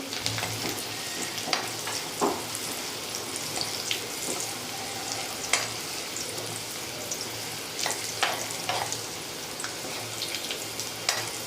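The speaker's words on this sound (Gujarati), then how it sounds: "લસણને થોડું સાંતળી લઈશું આપણે।" Whole garlic cloves sauté over low heat in a pan for a Gujarati green onion dish, giving a continuous soft sizzle with scattered crackles and pops throughout.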